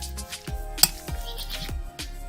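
A filling of rice, chopped onion, minced garlic and salt for grape-leaf rolls is stirred in a bowl, with quick repeated scraping and soft clinks in a steady rhythm and no talking.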